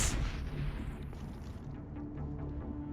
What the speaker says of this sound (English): No, why did I throw a grenade?